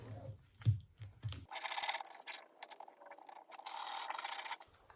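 A transfer is rubbed onto fabric in close, dry scraping strokes, several sustained rubs of varying length following a few soft handling knocks at the start.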